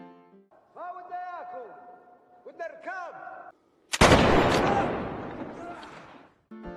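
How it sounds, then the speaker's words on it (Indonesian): Gunfire in the 2014 desert film Theeb, about survival against desert bandits: a sudden loud, sustained blast of shots breaks in after a stretch of raised voices, then cuts off. "Lalu Hussein menembak pria yang berjubah hitam."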